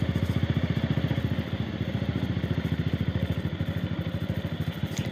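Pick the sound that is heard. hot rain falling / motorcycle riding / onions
motorcycle riding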